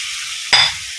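Potatoes and bitter gourd hit hot oil in a home kitchen, a sudden loud sizzle bursting out halfway through and then settling into a steady frying hiss, with no talk.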